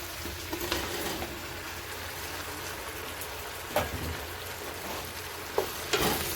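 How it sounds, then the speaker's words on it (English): Tomatoes hitting onions already frying in a pan for a from-scratch pasta sauce: a steady, close sizzle with hiss and crackle, plus a few sharper spatters and stirring bumps. "So now we're going to add our tomatoes in."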